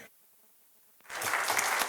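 Applause for the panelists at a literature festival breaks out after a second of near silence, rising quickly into loud, dense clapping from the crowd.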